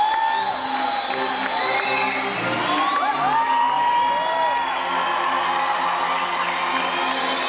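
Crowd cheering and whooping in a gymnasium as the Olympic flame is lit at the opening of the SESC games, a loud, continuous mass of voices and shouts filling the space.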